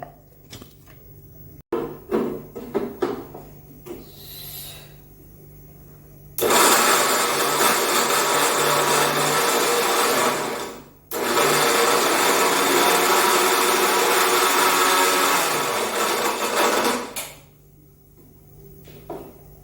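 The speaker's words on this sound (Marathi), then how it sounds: "दोडक्याच्या चटणीचं सर्व मिश्रण आपण एकत्र केलेलं आहे आणि मिक्सरला लावणार आहोत आपण गुर्र करून" A kitchen mixer grinder blends an overfilled jar of ridge gourd peel chutney in two long, loud whirring bursts separated by a short pause, with some clatter of handling before the first run.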